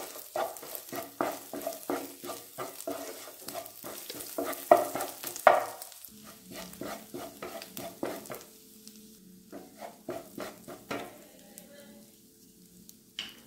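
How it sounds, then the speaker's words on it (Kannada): A spoon stirs ginger-garlic paste, turmeric and chili powder sizzling in a hot pan, with rhythmic scraping strokes, a couple of louder clanks against the metal, then softer frying as the stirring eases. "ಚೆನ್ನಾಗಿ ಮಿಕ್ಸ್ ಮಾಡಿಕೊಳ್ಳಿ."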